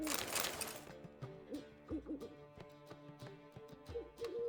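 A pet owl hoots softly in The Witcher 3, a few low, rounded calls spaced across quiet background music, with faint game ambience and no talking.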